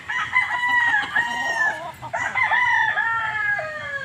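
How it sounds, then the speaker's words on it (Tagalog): Roosters crowing among clucking chickens on a poultry farm, two long rising-and-falling crows close by over a low background of fowl. "ikot lang tayo dito sa mga manok pasyalan natin sila"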